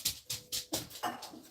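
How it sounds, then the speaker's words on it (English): A pet dog running around a room like crazy, heard as quick rhythmic bursts of scuffling and panting, about five in a row, close by and with no one speaking. "As my dog runs around like a crazy dog."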